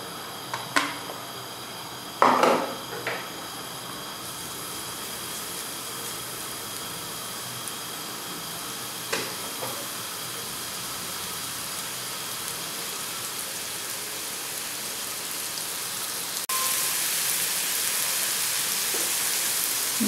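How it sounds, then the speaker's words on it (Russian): Chopped onion fries in a pan with a steady, hissing sizzle. A few crackles and pops come early, and the sizzle grows louder and brighter near the end, with no voices. "И сначала немного обжарим с вами лук."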